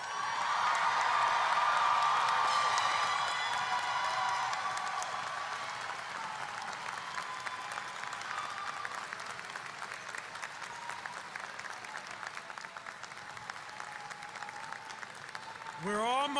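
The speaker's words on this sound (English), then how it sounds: "Please give them a big round of applause." Graduates and guests at a 2018 university commencement ceremony applaud in a steady, even wash of clapping that peaks early and then holds at a moderate, slightly distant level, with a few faint whoops.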